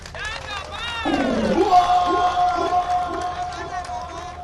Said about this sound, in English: I think Mr. President deserves, a round of applause